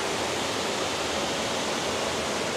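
A river near a campsite prayer house in Sungai Bil rushes steadily, a dense, loud, unbroken wash of flowing water with no voices.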